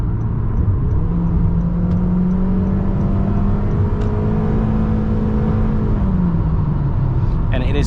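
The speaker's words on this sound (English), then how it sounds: "Definitely this engine is loud, but it is nice and responsive" 2022 Honda HR-V LX engine while driving, heard from inside the cabin as a steady, fairly loud drone that rises slightly in pitch and then falls away, with road rumble beneath and no voices over it.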